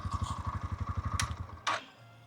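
A Bajaj Pulsar NS 125 motorcycle engine fires up with a rapid, chugging pulse of combustion beats, then a sharp mechanical click and a brief rev before the engine drops to a steady low idle, close by.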